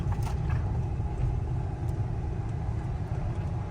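A 1999 Toyota Tacoma engine rumbling steadily while driving off road near a construction site, a constant low drone close by with light rattles over it.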